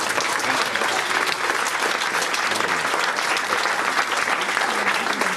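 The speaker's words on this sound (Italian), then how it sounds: "il mio applauso in particolare va a loro." Steady, dense audience applause at the closing ceremony of a Cagliari Calcio football summer camp for youth in Aritzo, continuous and loud from start to finish without a break.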